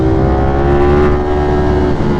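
Motorcycle engine pulling hard in sport mode with traction control on, a steady loud drone with a slight rise in pitch, heard close up from the rider's position with wind rush, no talking.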